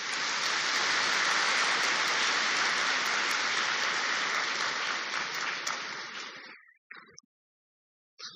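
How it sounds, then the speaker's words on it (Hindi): A large gathering at a spiritual discourse gives a sustained, loud burst of applause lasting about six seconds, then it tapers and stops abruptly, followed by a few scattered claps and silence. "एक बारी जोरदार ताली बजा दो"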